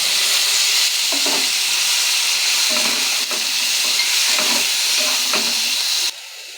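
Water poured onto a ground banana-flower mixture in a hot frying pan sets off a loud, continuous steamy hiss and sizzle with bursts of stirring, then drops abruptly near the end.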